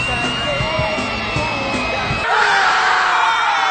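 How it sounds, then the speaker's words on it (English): A high-pitched child's scream rings out amid a loud, cheering crowd, the yelling growing brighter and denser toward the end. "complete with a little girl's screaming sound effect added in the background."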